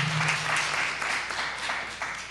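A conference audience claps briefly in a short burst of scattered applause.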